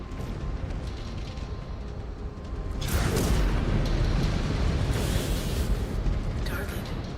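Heavy booming weapon fire from a Catapult mech in the MechWarrior Clans game builds into a sustained rumbling barrage with repeated blasts, alongside radio-style voices talking.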